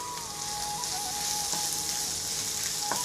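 Two chopped onions sizzle steadily in a hot pan for Punjabi chicken masala, a close, even crackling hiss with no voices.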